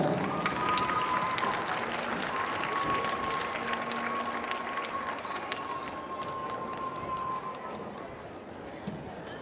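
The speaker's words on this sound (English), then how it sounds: "Let's give them another round of applause." Sustained audience applause for elementary school performers at a school district arts showcase, steady dense clapping throughout with a faint whistle-like tone running above it, fading slightly toward the end.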